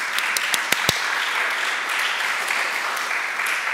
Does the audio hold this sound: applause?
yes